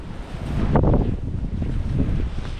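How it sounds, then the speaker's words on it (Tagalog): Strong wind buffeting a microphone in a steady, loud roar, with rushing gusts and no voices, on a mountain climb at Pinagbandirahan, Atimonan, Quezon. "Ang lakas ang hangin eh parang may bagyo"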